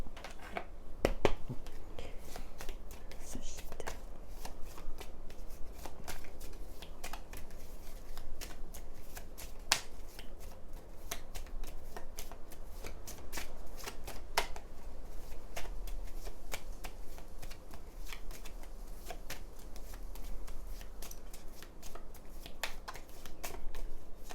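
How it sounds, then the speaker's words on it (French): Marseille tarot cards being shuffled and drawn by hand, a steady close run of soft riffling flicks and slaps that continues throughout at moderate volume with no voice. "alors je tire tout de suite les cartes. Je commence par le tarot de Marseille"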